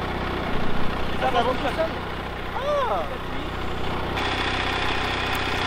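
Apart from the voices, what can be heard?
tractor engine idling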